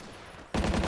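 A sudden burst of rapid automatic gunfire in the video game Battlefield 1942, Stalingrad map, kicks in after a moment of low rumble, loud and close.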